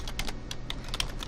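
Fingers type a web link on a computer keyboard, a quick near run of light, uneven key clicks with no voice.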